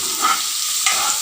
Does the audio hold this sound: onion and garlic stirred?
yes